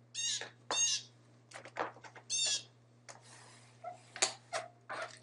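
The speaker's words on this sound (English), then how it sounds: "There's some birds out there." Birds calling outdoors: a series of sharp, repeated chirps and short calls in irregular bursts, fairly close and clear over a low, steady electrical hum.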